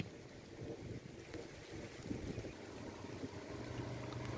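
Strong stormy wind in a rainstorm with hail in Bankura: a steady, loud rushing roar with low buffeting rumble that swells slightly toward the end, continuous throughout with no voices.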